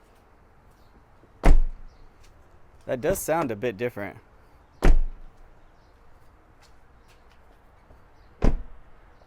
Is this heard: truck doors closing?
yes